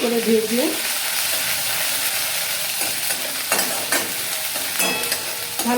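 Chopped green chili frying in a pan alongside ginger paste, giving a steady close hiss of sizzling oil with occasional scraping and stirring sounds.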